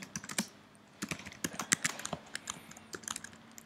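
Typing on a computer keyboard in quick, uneven bursts of clicky keystrokes, close and fairly quiet, with no voices.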